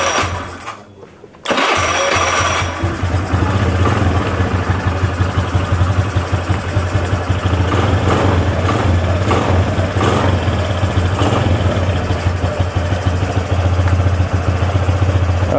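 A Honda Beat carbureted scooter engine is started electrically and then idles loudly and steadily up close, a continuous buzzing mid-pitched drone with no talk over it.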